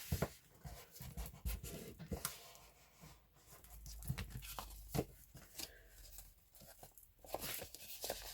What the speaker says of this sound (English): all I'm doing is I'm just folding them over like that